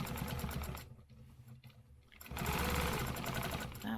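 A sewing machine stitches a stencil pattern, running in a fast steady mechanical whir, pausing briefly with quiet clicks, then starting up again close and loud.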